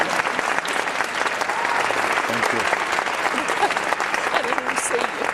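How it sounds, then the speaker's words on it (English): Dense, sustained audience applause for contestants at the 2006 Miss NWA beauty pageant. It is loud and continuous with a steady crowd-clapping texture, and it fills the whole stretch without a break. "let's give them one more huge round of applause as we dismiss our contestants tonight"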